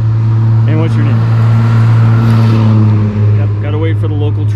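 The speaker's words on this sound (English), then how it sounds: "got to wait for the local trucks to go by" Local trucks driving past on a road, a loud continuous engine drone with a heavy low hum and rising and falling tones as they go by, while people talk over it.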